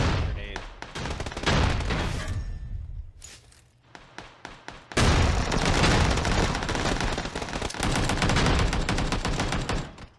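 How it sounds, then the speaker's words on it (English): Grenade and gunfire in a multiplayer shooter: dense, continuous rattling shots fill the whole stretch, with a brief lull near the middle before a loud burst resumes, while players talk over it. "that guy just threw a grenade."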